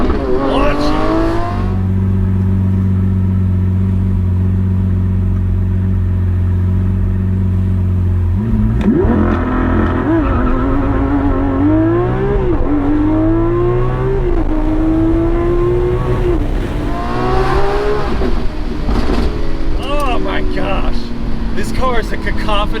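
A Lamborghini Aventador SVJ Roadster V12 launches hard, a steady loud idle-like drone giving way to a rising, sweeping engine roar that climbs through several gear pulls, close and dominant throughout.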